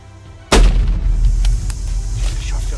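A single loud rifle shot at a buffalo on a swamp hunt, a sharp close blast followed by a rolling, fading boom over faint background noise.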